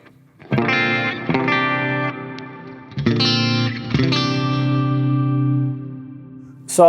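Electric guitar with split coil pickups through a Line 6 Helix metal preset, bright, distorted strummed chords ringing out in a few separate bursts with short gaps, loud and unaccompanied.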